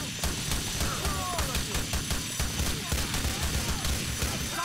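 Dense continuous gunfire from Grand Theft Auto IV, rapid overlapping shots and bursts with crashes during a heist-style shootout, loud and sustained from start to finish.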